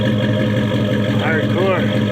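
A 4.7 liter Mopar V8 idles with a steady low rumble, loud and close, while someone talks over it.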